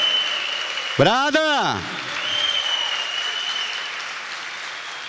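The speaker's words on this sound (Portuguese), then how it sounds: "Uma salva de palmas para Nossa Senhora." A church congregation applauds during Mass, a steady, moderately loud clapping that continues after a priest's brief shouted exclamation near the start.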